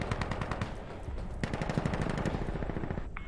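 Rapid automatic gunfire in a video game rattles on at close range in a dense, unbroken burst, with no talk over it.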